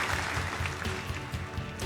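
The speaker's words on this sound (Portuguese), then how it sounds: "Palmas pra gente." A studio audience claps steadily for a short stretch on a health cooking show, with a dense patter of hands at moderate volume.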